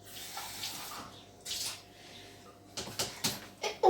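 A pink measuring cup is rinsed under a kitchen tap, the water splashing in short bursts with pauses between, close and fairly soft, ending in a few quick splashes and knocks.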